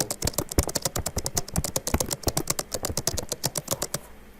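Fast, even keystrokes clatter on a computer keyboard, a close, dense run of roughly forty crisp clicks in about four seconds, with no talking.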